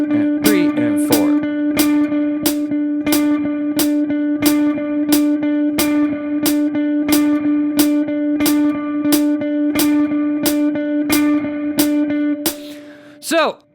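An electric guitar plays steady eighth notes with accents on beats 1 and 3, sounding as an even string of bright plucked notes with a sustained tone underneath, close and clear, ending with a brief sliding note.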